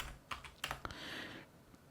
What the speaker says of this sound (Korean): 1 앞에 키보드의 탭 키를 누르고 2 앞에 커서를 두고 마찬가지 탭